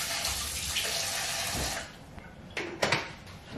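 Water runs from a kitchen tap into a sink at home, a steady close rushing stream for a couple of seconds, then a few short splashes and clatters as the flow stops.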